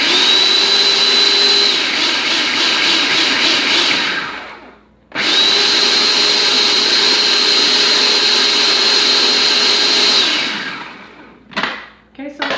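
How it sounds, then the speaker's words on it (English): Coconut flakes whirring in a blender on a fine setting, two long, loud, steady runs of high motor whine separated by a short pause, then a brief final burst. "On a fairly fine blend on that, and I'm going to set them to the side."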